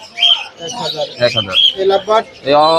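Budgerigars and lovebirds chirp at the Mirpur bird market in Dhaka. Bursts of close, bright chirps and squawks mix with a voice talking nearby.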